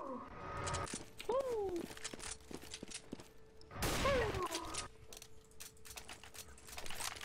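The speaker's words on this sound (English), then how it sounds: "I love how I emptied out a full mag into him" Gunfire from a video game, rapid shots sputtering in clusters as a magazine empties, mixed with game effects and a player talking over it.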